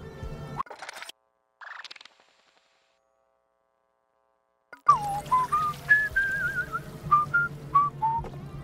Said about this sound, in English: I'm just gonna whistle to myself for a bit now,